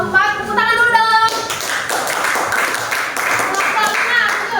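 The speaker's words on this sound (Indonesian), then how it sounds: "Tepuk tangan dulu dong" Classroom applause for a student group finishing a presentation, a dense crowd of hand claps running steadily after a short stretch of voices and harmonic tones at the start.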